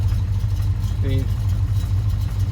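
1971 Dodge Demon engine idling at about 800 RPM, a steady low rumble that stays close and even throughout while someone talks over it.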